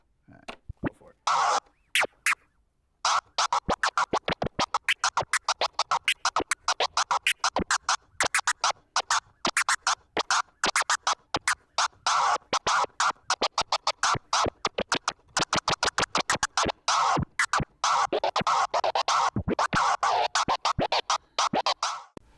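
DJ record scratching on a turntable, fast rhythmic scratches chopped by a crossfader into dense stuttering bursts, loud and close, running continuously after a brief opening pause.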